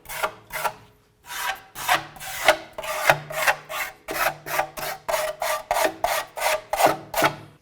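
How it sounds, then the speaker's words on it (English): A wire brush scrubs the rear brake hub surface of a 2002-09 Dodge RAM 1500 in quick, rhythmic rasping strokes, close and loud, with short pauses between bursts. "let's continue on by using our wire brush along this area right here"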